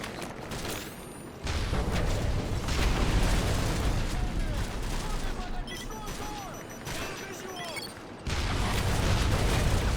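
Repeated explosions and bursts of gunfire boom in a busy Call of Duty: Modern Warfare 3 battle scene during a tank attack, loud and continuous, with a brief quieter stretch before the blasts resume.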